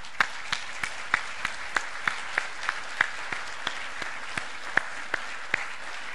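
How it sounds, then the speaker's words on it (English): Crisp individual handclaps from a live seminar audience, sharp and evenly spaced at a steady rhythm over a quiet, hissy room rather than a dense roar. "Would you give yourself a standing ovation for what you've done?"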